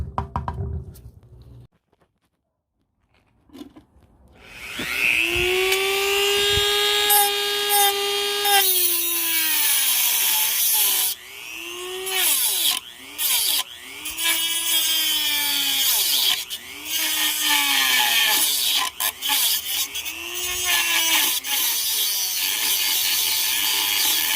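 A power tool cuts along the edge of a metal housing, a loud whining cut that rises and dips repeatedly in pitch as it bites, after a brief quiet start, with no talk.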